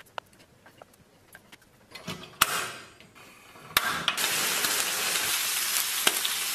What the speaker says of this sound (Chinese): 满满的油脂，每次看到这种滋滋冒油的状态啊，就觉得特别治愈